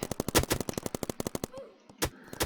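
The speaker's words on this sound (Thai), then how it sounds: "โอ้โหโดนป้อมยิงนะครับ" Rapid turret gunfire in the Roblox game BIG Paintball: a fast, loud string of sharp shots, then a pause and two more isolated bursts.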